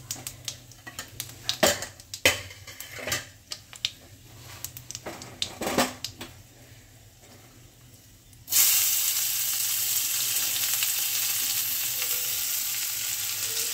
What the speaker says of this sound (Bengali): পেঁয়াজটাকে ভাজার জন্য কিন্তু আমি পেঁয়াজ দেব